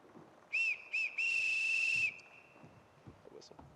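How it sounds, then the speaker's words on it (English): A whistle blown to summon the household staff: two short blasts followed by a longer sustained one, clear and fairly loud over quiet room tone, then faint rustling. "Everyone in this house answers to a whistle."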